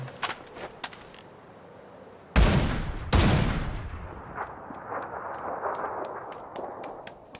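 Gunfire in the video game PUBG: scattered light shots, then two loud, close blasts with long decaying echoes, followed by a run of sharp, distant cracks over a low background.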